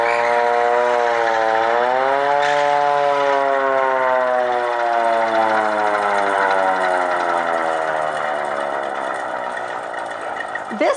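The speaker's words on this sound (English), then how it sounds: "This hand crank siren was used to call all the volunteer community members to come help out put out the fire." A hand crank fire siren once used to summon volunteer firefighters wails loudly and steadily, its pitch rising as the crank speeds up and then slowly sliding down as it winds down over about ten seconds.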